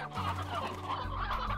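Chickens clucking inside a deluxe chicken coop in the video game Slime Rancher, a close, steady run of short fowl clucks over a low continuous background hum, with no talk.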